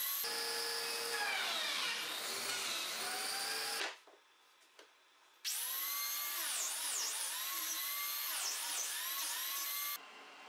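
Power tool cutting biscuit slots in wooden cabinet panels, a loud whining motor with shifting pitch running for about four seconds, a brief quiet pause, then a second long cut that winds down near the end.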